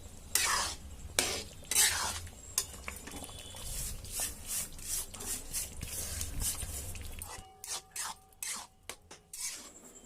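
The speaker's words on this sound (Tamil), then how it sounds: "ரவையை சேர்த்து கலரி விட்டுட்டே இருங்க, அப்படி இல்லைன்னா கட்டி கட்டியாக மேலே நின்றுடும்" Semolina is stirred in a pan for rava kichadi. A spoon makes repeated close scraping and rasping strokes against the metal in an uneven rhythm, with a faint sizzle underneath.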